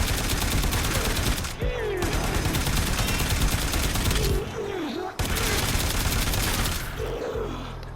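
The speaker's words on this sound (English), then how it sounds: "Four shots." Rapid, loud gunfire from the Telos Boltor weapon in the Warframe game, sustained volleys with brief gaps and whooshing effects layered over the shots.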